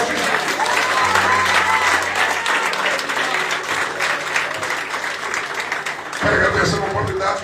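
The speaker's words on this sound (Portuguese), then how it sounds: "Só quem crê dá uma salva de palmas" A church congregation at a Portuguese-language sermon claps together in sustained applause, a dense crowd sound filling the space throughout. A voice speaks over the clapping near the end.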